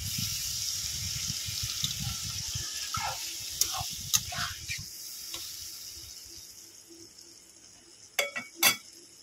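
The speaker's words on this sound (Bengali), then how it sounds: "আমি একটু জল দিয়ে দেবো।" Water poured into a pan of frying rohu fish curry with potatoes, a burst of hissing sizzle that quickly settles into a quiet simmer, followed by a few sharp metallic clinks.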